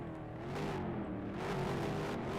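Car engines in a racing video game, a continuous loud engine drone with rising and falling revs and overlapping motor tones, no talk heard.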